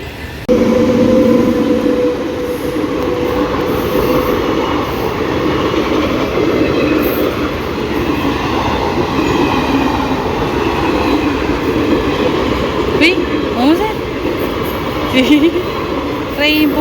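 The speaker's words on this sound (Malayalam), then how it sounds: "ട്രെയിൻ പോകുന്നേ." A train passes close by with a loud, continuous rumble and rattle of wheels and cars, faint squeals appearing later, while people talk over the noise.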